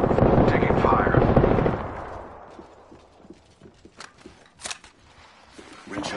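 Gunfire in a video game: a loud, dense stretch of rapid firing and crackle for the first two seconds, then scattered sharper shots and pops at lower level, with a voice heard briefly.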